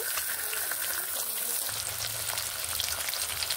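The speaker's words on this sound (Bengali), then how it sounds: "এইভাবে উল্টে ভালোভাবে ভেজে নেব" Katla fish pieces sizzling in hot oil in a kadai, a steady close crackling fry with a faint low hum underneath, no talking.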